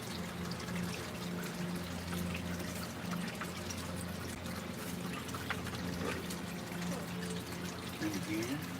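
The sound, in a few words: water rinsing rocks while sluicing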